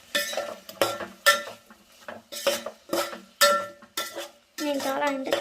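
A spoon stirs biryani in a pot as chicken masala and garam masala powder are mixed in, giving about eight close, rhythmic scraping strokes against metal, each separated by a short pause, ending in a longer continuous scrape.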